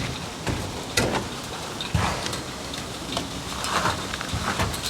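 Rain falls steadily at an abandoned 1970s communist-era steel works, a soft broadband hiss with scattered louder drips and taps, no voices.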